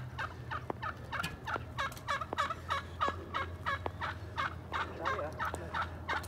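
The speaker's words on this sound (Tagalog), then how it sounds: "Turkey, oh." A flock of turkeys gobble repeatedly outdoors near a church, a rapid series of rattling calls in quick bursts, moderately near over a low steady hum.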